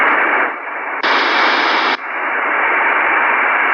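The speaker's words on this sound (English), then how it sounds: "It looks like white noise a little bit, but there's I seem to hear some kind of digital hash in there." A shortwave radio tuned to 6973 kHz carries a steady, loud wash of white-noise-like digital hash, with the level and tone stepping up abruptly for about a second midway before settling back to a constant hiss.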